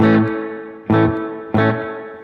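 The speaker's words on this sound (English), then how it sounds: "Now here's what it sounds like when the pre-delay is on 0." An electric guitar played through a Strymon Blue Sky reverb pedal, pre-delay set to zero, strikes three loud strummed chords, each ringing out into a smooth, immediate reverb tail.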